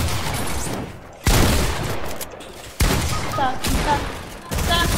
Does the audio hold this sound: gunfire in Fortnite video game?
yes